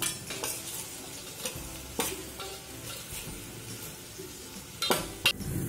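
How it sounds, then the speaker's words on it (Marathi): Okra and onion stir-fried in oil for a prawn curry, giving a soft continuous sizzle with a few sharp utensil scrapes and clinks against the pan, the loudest taps near the end. "आता हे भेंडे घालणार आणि मी तेलावर मस्त असे परतवून घेणार आहे."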